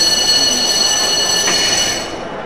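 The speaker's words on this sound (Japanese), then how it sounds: "到着の電車は普通西明石行きです" A train rolls into Shin-Osaka station on the Tokaido Line in the video game Densha de Go! Final, with a rushing, rumbling roar and faint wheel squeal, fading slightly toward the end.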